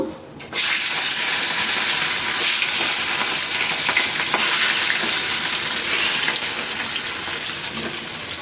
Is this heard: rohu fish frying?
yes